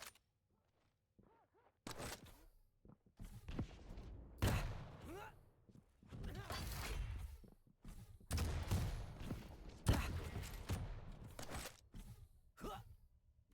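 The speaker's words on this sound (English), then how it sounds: "Good defensive rockets coming out from Aaron" Rocket launcher fire and explosions in the arena shooter Quake Champions during a competitive duel, several loud bursts spread through the clip, mixed with game effects and grunts, while a commentator talks over the action.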